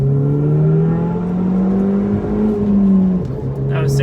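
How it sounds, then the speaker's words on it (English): A 2018 Ford Fiesta ST accelerates at full throttle in second gear with wheelspin. The engine note is loud and close, climbing steadily in pitch over several seconds, then briefly dips before resuming. "I do get a lot of wheel spin if I go full throttle in second gear"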